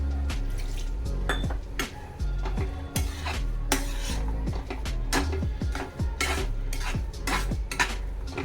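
Soya chunk keema, cooked with masala and salt, is stirred and sautéed in a pan, with a spatula making steady, close scraping and clinking strokes against the metal, each stroke distinct, and no voices.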